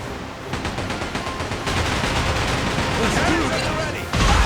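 Pirate ship cannons fire in Like a Dragon: Pirate Yakuza during a sea battle, a rapid barrage of booming shots layered over constant roaring battle noise, with a heavy blast near the end.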